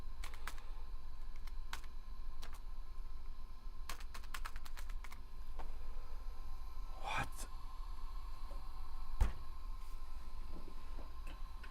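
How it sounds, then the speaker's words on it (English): Fingers tap the keys of a 1991 Dell laptop keyboard, scattered sharp clicks in short bursts over a steady low hum, with a faint breathy sigh partway through. "This keyboard sucks, by the way,"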